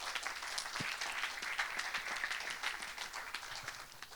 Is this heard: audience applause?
yes